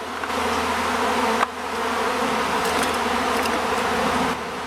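A honeybee swarm racing into a box makes a dense, steady buzz that stays fairly loud and continuous, with no voices.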